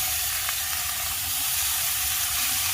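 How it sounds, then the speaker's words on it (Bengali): Beet and carrot pieces fry in oil in a pan for a vegetable chop, a loud continuous close sizzle and hiss with faint stirring clinks, no voices. "বিট আর গাজরটাকে আমি প্রথমে 2 মিনিট মতো ভেজে নেব।"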